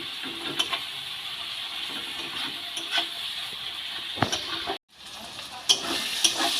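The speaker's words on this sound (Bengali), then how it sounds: "এবার একটু টমেটোগুলো ম্যাশ করে নিচ্ছি।" Cooked masala for Dhaba-style egg tadka being stirred and mashed with tomatoes in a pan, with a steady soft sizzle and occasional scraping knocks, a brief gap, then the sizzle resuming.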